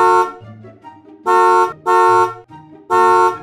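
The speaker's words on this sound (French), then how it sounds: "tu fais un bruit de klaxon" Repeated car horn honks as a comic sound effect, three loud blasts sounding alone with short gaps between them and no talking.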